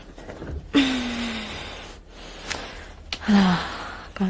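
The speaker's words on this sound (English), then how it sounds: "why is she breathing this hard?" A woman breathes hard in a spooky scene, with two loud, drawn-out gasping breaths separated by quieter pauses and a couple of sharp clicks.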